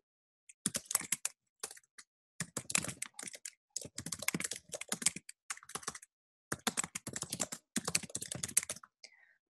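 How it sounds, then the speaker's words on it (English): Keyboard typing in bursts of rapid keystrokes separated by short pauses, close and clear, while a dataset description is entered. "I'm going to type some description."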